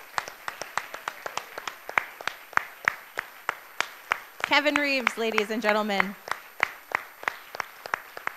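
Scattered, evenly spaced claps from an audience for a singer at an opera picnic event, steady and moderately near, running beneath a host's voice.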